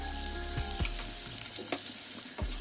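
Chopped garlic sizzles softly in melted butter in a pan, a faint continuous crackle with a few light clinks of a spoon, close and quiet, no talk.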